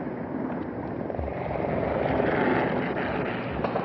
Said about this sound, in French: Un hélicoptère suit les Hawker Hunter et mitraille le palais et les immeubles alentours.